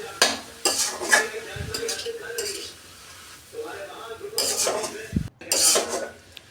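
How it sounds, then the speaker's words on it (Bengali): Khesari greens being stirred in a cooking pot, with repeated scraping and clattering of a utensil against the pot over a light sizzle, in close, uneven bursts with short pauses between strokes. "আমি অনবরত নাড়তে আছি শাক"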